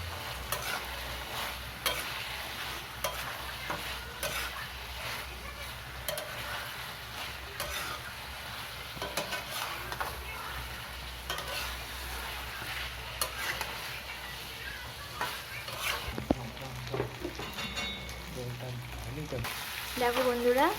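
Chicken kosha with potatoes sizzles steadily in a pan, with repeated scraping and stirring strokes and light clinks of the utensil throughout.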